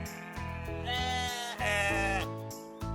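An animal toy plays a recorded sheep bleat, a wavering, bleating cry repeated in several pulses over a steady droning sound.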